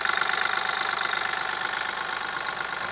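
A tractor or car engine runs steadily, a continuous near, loud mechanical drone with a faint rapid knocking pulse, no voices over it.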